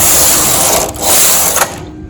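A knitting machine carriage knitting rows of mercerized cotton yarn, a loud close mechanical whirring rush that swells twice as the carriage sweeps across, then stops abruptly.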